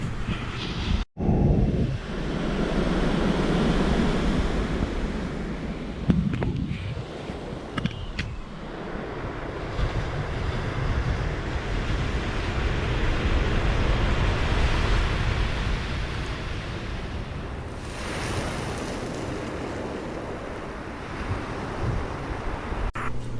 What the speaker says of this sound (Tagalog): Napakasarap pakinggan ang bawat bato habang humahakbang at papunta ka dun sa dagat